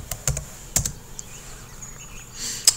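Typing a word on a computer keyboard: a few sparse, close key clicks in short irregular bursts, fairly quiet, with no talking.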